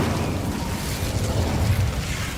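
An Incendio fire spell cast in Hogwarts Legacy: a low, rumbling whoosh of flame that swells and sustains for a couple of seconds, moderately loud, with no voices.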